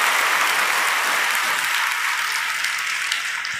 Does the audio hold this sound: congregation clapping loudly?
yes